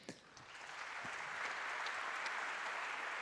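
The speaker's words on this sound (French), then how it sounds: "Thomas Saunier, merci de l'applaudir." A quiet but steady swell of audience applause at an entrepreneurship policy event, building from a few scattered claps into an even, distant wash of many hands that holds to the end.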